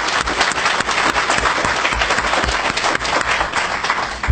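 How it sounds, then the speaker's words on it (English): Loud, continuous applause from the audience at a ceremony honouring Empress Farah Pahlavi, many hands clapping close and dense with a few sharper individual claps standing out. "let's give him a round of applause"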